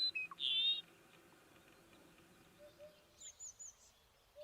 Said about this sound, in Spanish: esta alondra comienza a cantar a la caída del sol